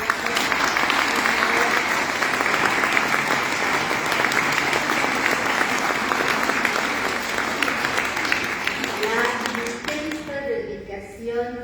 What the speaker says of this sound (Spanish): Yo creo que esto merece un aplauso por el esfuerzo